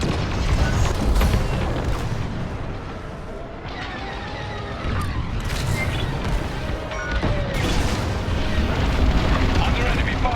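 Corvettes blowing up in the space combat game Star Wars Squadrons, heavy booming explosions and rumbling blasts layered with in-game radio voices and effects, loud and continuous.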